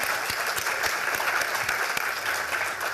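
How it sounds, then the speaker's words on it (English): Audience applause at a healthcare innovation conference, a dense, even burst of clapping from a roomful of attendees that holds steady throughout. "Also hold for applause."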